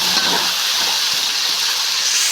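Tomatoes and green chillies fry in a pan for okra masala curry, giving a loud, close, continuous sizzling hiss with no pauses.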